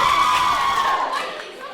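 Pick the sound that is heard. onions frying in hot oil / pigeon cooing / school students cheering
school students cheering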